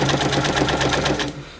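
A sewing machine runs a straight stitch through paper for a scrapbook page embellishment: a loud, rapid, even chatter of needle strokes that stops abruptly near the end, leaving a quiet tail.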